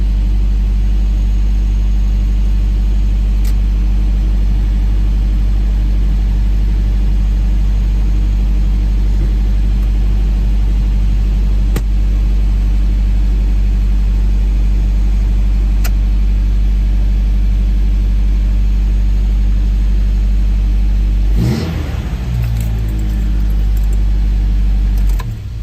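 Toyota 22R engine in a Hilux pickup with a Weber 38 carburetor runs at a loud, steady idle while warming up, then surges briefly near the end.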